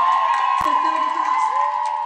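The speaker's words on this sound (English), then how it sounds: "And the crowd goes wild up in here" Crowd noise at a roller derby game during a WFTDA Continental Cup bout, a steady loud roar of cheering and whoops with a sharp burst near the middle, sustained throughout with some voices mixed in.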